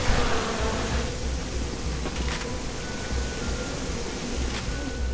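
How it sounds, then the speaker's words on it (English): A swarm of bees in the Resident Evil 6 video game buzzes in a dense, continuous drone that stays loud and steady throughout, with no speech over it. "you're meant to be running away from those bees all the time"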